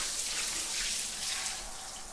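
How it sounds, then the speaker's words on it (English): Steady hiss of an all-metal rain shower head spraying water at good pressure, even and continuous at close range with no talking. "Pretty good pressure coming out of the rain shower head."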